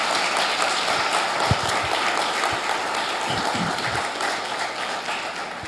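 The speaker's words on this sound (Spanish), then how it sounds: "reciban el aplauso que la gente que está aquí reunida el día de hoy les ofrece" A gathered audience claps steadily, a broad even wall of applause with a few louder low thumps and knocks standing out midway, fading slightly toward the end.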